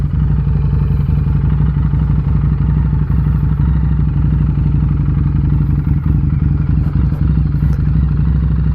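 A motorcycle engine idles and churns loudly and close as the clutch is eased through the friction zone with no throttle added, a dense, even, low rumble with mechanical clatter that holds steady throughout.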